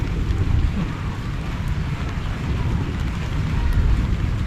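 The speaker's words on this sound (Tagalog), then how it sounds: "lumalakas yung ulan mga kabida" Rain growing heavier outdoors, a steady, dense wash of noise with a low rumble, loud and continuous throughout, with no voices.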